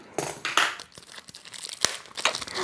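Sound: unpacking new books from plastic wrapping

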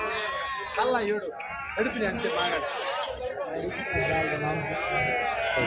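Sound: sheep bleating at market

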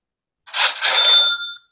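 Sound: Online Sales Pro new lead notification sound

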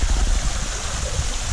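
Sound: pool waterfall running

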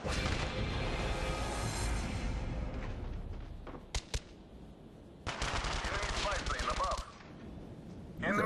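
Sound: gunfire from a FAMAS in video game COD Black Ops

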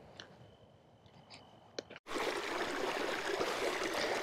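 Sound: small stream of water flowing through a canyon

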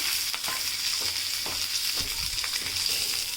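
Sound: green chillies and peanuts frying in oil

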